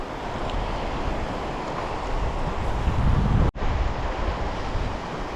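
Rough, choppy sea surges against a breakwater barrier, a steady wash of waves with gusting wind buffeting the microphone and one brief dropout.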